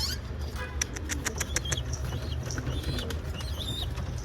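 Pigeons flapping their wings inside a coop, a quick run of close, soft fluttering bursts over a steady low hum, with faint bird calls in the background.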